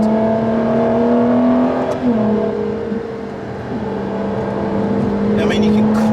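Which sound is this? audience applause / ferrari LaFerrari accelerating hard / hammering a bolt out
ferrari LaFerrari accelerating hard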